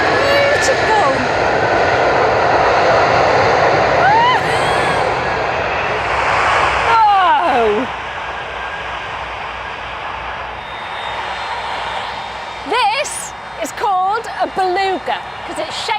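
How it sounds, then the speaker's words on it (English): Airbus Beluga whale-shaped transport aeroplane heard as a steady, loud aircraft engine roar under continuous talk, easing slightly partway through. "it's catching a lift on the strangest looking aeroplane you will ever see"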